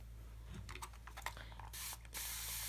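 A spray bottle of fabric stabilizer clicks through several quick trigger pumps before two close, hissing bursts of spray, the second one longer.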